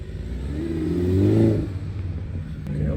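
A BMW M340i engine, tuned by DP Tune, gives a short rising rev that swells and falls back to a steady rumble over a few seconds, close and fairly loud, with no talking.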